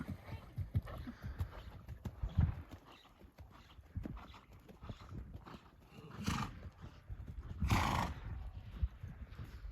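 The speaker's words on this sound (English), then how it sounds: "There's a horse with my wife on it." A horse neighs loudly twice amid a steady clip-clop of hooves, with faint voices in the background.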